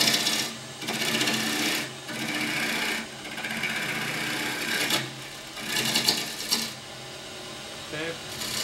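Wooden bowl blank spinning on a lathe while a tool cuts the tenon and flattens the bottom, a steady close whirring scrape broken by short pauses as the tool lifts off, with a brief rattle near the end.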